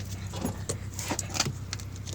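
Car keys to a brand new car jangle in bursts of bright metallic clinks, close and fairly quiet, a few irregular shakes over low background hum.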